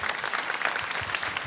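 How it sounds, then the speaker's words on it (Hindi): An audience at a motivational talk in Ahmedabad breaks into dense, steady applause, many hands clapping continuously and evenly for the whole short stretch. "सबसे पहले उनके लिए तालियां।"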